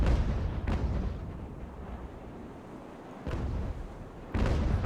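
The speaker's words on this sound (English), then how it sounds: "HMS Serpent is turning away from the fusillade of grape shot coming from the USS Savage" Cannon fire of grape shot between sailing warships in a naval battle video game, heard as rumbling distant booms in irregular bursts over a dense, noisy roar, with no voices.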